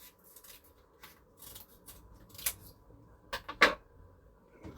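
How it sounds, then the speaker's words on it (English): Scissors snip down the middle of a strip of double-sided tape in a few short, crisp cuts, with a sharper pair of snips near the end over a quiet background. "I'm just going to cut this down the middle."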